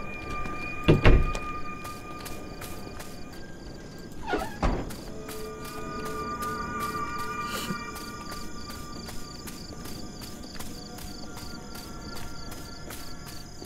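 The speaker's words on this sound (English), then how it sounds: "Let me open the trail gate for you." A trail gate swinging open in a horror video game at Ironbark Lookout: a thudding clunk, then a second heavier knock a few seconds later, over a steady ambient hum with faint metallic tones.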